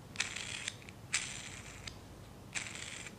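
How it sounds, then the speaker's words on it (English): A 3D-printed box is screwed together by hand, giving three bursts of dry plastic ratcheting clicks, each lasting under a second and separated by short pauses, close and fairly quiet. "And right off the printer, you screw it together."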